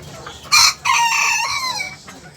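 Backyard bantam coop with Sebright chickens: a loud rooster crow rises and trails off over about two seconds, preceded by a short sharp squawk, with faint clucking and farmyard background.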